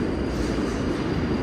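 A subway train at Chambers Street station in New York, serving the 4, 5, 6, J and Z lines, gives a steady, loud, close rumble of wheels and carriages that fills the whole moment without a break.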